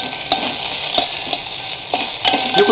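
Whole spices sauteing in hot clarified butter in a pan for vegetable biryani, a steady close sizzle with a few soft stirring scrapes and clinks, no voices.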